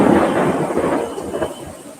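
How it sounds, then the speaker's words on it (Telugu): Thunder rumbles through a rainstorm in Guntur, a loud, broad roll that fills the whole stretch and slowly fades toward the end, with no voices over it. "ఇప్పుడు దాకా ఉరుములు లేవు ఇప్పుడు ఉరుములుతున్నాయి చూడండి"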